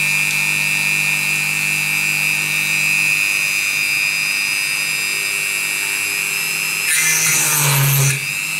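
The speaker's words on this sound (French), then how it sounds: "j'utilise une petite perceuse à colonne, bah, Dremel du coup" Small Dremel drill press motor whining steadily while boring holes in G10 knife scales, a continuous high tone with a brief rougher burst of drilling near the end.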